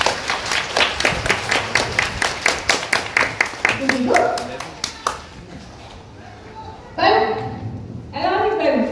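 A crowd at the Nausicaa aquarium claps in a steady, rhythmic beat for the sea lion Scooby, loud and even for about five seconds before fading. Voices speak afterward.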